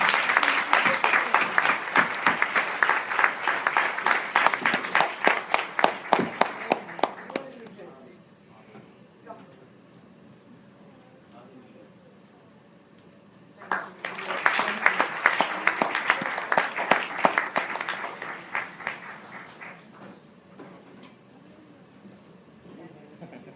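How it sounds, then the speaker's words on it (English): Audience at an early childhood association talk breaks into loud applause after a speech, with a burst of clapping that fades to a quiet room, then a second strong round before trailing off. "Ladies and gentlemen, big round of applause, please."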